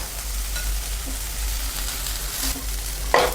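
Green peas hit hot oil in a pan while spicy brinjal rice is cooked, producing a steady close sizzle with occasional stirring scrapes and a sharper clink near the end.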